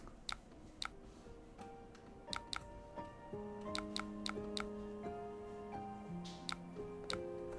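Rapid, light mouse clicks from an opponent spam clicking in a Flesh and Blood online card game, irregular sharp ticks scattered throughout, quiet and close, over soft sustained musical tones.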